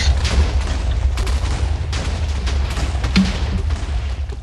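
Creeper chain explosion in the Minecraft video game, heard as a dense run of booming blasts and pops that overlap continuously at high loudness across the whole stretch.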